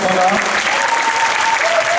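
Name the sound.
audience applause for gymnasts at French championships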